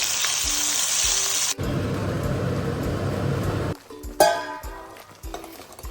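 Ground masala paste drops into a hot tempering of oil with bay leaves and fries with a loud, close sizzle that flares up and then settles, followed by softer frying and a few clinks of a spoon.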